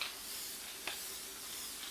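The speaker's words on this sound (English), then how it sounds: "you're going to want to spray it to where those corners will stay down" A soft, steady hiss of aerosol spray adhesive being applied to a stretched canvas for mounting a diamond painting, faint and continuous with a brief click partway through.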